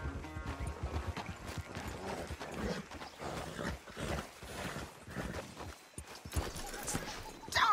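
Horse hooves pound in a Red Dead Redemption 2 horse race, a fast, uneven clip-clop at moderate distance with game wind and ambience, fairly quiet overall and interrupted by brief speech.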